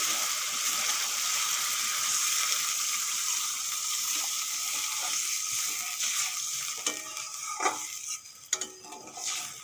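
Water poured into a pan of frying spice paste in oil for an eggplant curry, a loud hissing sizzle that settles into steady bubbling, with a few clinks of a spoon against the pan.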